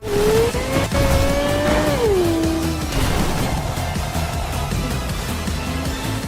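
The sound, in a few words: car driving in Cyberpunk 2077 video game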